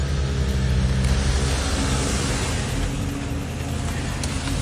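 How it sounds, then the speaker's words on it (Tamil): Several cars pulling up and idling outside a house, a dense low engine rumble and broad road noise holding steady and fairly loud throughout, with no voices. "வீட்டுக்கு வெளியிலையும் நிறைய கார்லாம் வந்து நிற்கிற மாதிரி சத்தம் கேட்குது."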